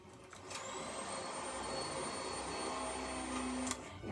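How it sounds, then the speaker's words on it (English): A vacuum cleaner starts up and runs with a loud, steady whine and roar for a few seconds, then cuts off abruptly near the end. "You can do the hoovering."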